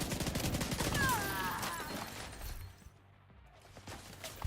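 Rapid bursts of gunfire while shooting an enemy in a shooter game with a gun-focused build, crackling shots in quick succession for a couple of seconds, then tapering off to quiet.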